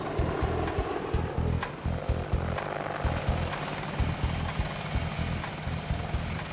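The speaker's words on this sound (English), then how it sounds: "It's the world's deadliest helicopter. It's the Apache Longbow." Rhythmic thumping of an Apache Longbow attack helicopter's rotor blades, a steady pulsing beat with a whining engine tone, fairly loud and close.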